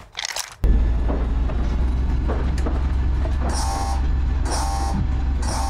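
A train rolling along in the survival game Rust, a steady loud low rumble and drone with periodic higher mechanical whines, following a brief burst of noise at the start.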